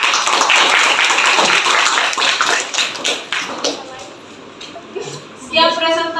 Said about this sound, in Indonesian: kasih aplaus untuk teman kita